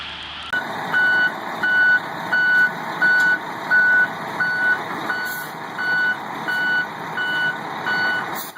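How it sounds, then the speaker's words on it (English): Reversing beeps from a heavy truck unloading on a muddy site, a steady series of about a dozen evenly spaced loud tones repeating over a constant engine idle, with no talk. "The reverse beep kicks, and that's the sound of precision."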